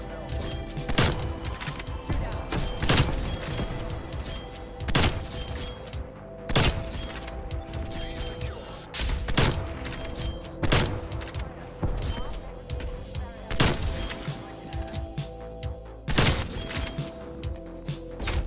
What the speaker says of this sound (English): Sentry shot, I gotta stay away from that.